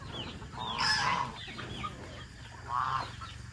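Free-range village chickens clucking inside a coop built from used shipping containers, with a couple of short bursts of clucking over a low background murmur.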